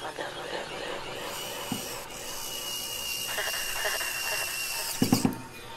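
An ES-120 screwdriver is pressed in and turned one way, then the other, making soft scraping and ratcheting rubs and a few sharp clicks near the end. The sounds are close but quiet, with speech around them.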